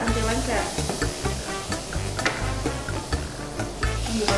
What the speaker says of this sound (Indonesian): Oke, si margarinnya meleleh. Oke, udah meleleh.